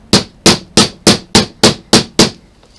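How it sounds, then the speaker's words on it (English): A small hammer tapping snap prongs together on a fabric clutch, seven sharp, evenly spaced strikes at a steady pace, close and crisp, with no talking. "Then get a little hammer and just hammer them together"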